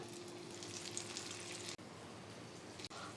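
Thin flattened chicken kabab patties fry in a pan over medium-low flame, giving a soft continuous sizzle heard close but faint, with a couple of brief clicks and no talking.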